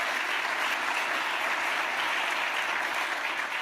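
An audience at the Louisville mayor's State of the City address gives a sustained round of applause for the city's snow team, an even, continuous wash of clapping heard alone.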